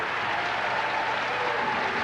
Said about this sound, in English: And most of the crowd that you hear cheering for Rick Steelsmith is comprised of the ACUI